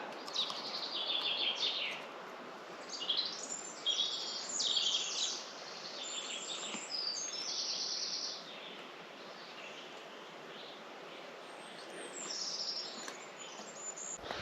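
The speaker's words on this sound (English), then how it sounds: "listen to the birds" Several birds chirp and sing at once, bright trilling calls that overlap and come and go against quiet outdoor background noise.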